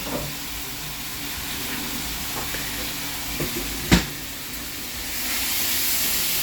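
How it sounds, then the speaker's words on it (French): Meat sizzles in a hot pan on a stovetop, a steady faint hiss and crackle throughout with a single sharp pop near the middle. "Quand ça crépite, on vient mettre ça dedans, on vient mettre la viande"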